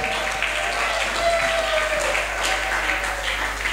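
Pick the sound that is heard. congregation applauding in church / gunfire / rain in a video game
congregation applauding in church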